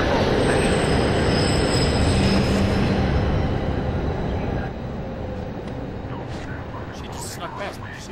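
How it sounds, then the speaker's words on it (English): A train rumbling past with squealing wheels in the game The Darkness, loud and close at first, then easing off and growing slightly fainter toward the end. "The next train."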